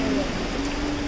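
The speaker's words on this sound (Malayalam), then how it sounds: "അപ്പോഴേക്കും മഴ നന്നായിട്ട് ഉറച്ചു." Heavy rain falls at a temple in Kottayam, a dense, steady hiss of downpour with no pauses over the short stretch.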